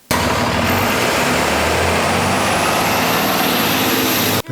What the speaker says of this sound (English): The growl of engines and car speakers produce low bass frequencies.